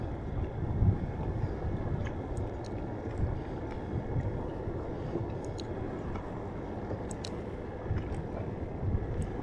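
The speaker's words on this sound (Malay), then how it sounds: "Angin terlalu kuat." Strong wind blowing at sea during a fishing trip off Jimah, Bagan Lalang, a steady broadband rush buffeting the microphone with low rumbling gusts and faint water noise, continuous throughout with no talk.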